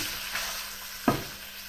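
Achari chicken sautés in a pan with a steady, broad frying sizzle and one sharp stirring scrape near the middle, heard alone without speech.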